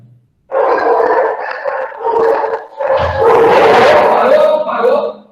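Dogs bark and yip loudly and close by in a home, in a burst of overlapping, excited calls that grows more intense toward the end.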